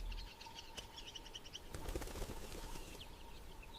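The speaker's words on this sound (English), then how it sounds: "The eagle lands with enough force to lift dust from the dry soil." An eagle comes down onto dry, dusty soil, its wings beating in a brief flurry of close flaps, while bird chirps sound through the African bush around it.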